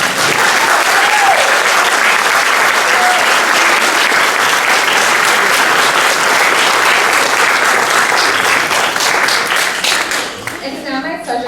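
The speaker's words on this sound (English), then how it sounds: "give them a round of applause" Loud, dense audience applause fills a white coat ceremony for accelerated nursing students, then tapers off near the end as a voice begins.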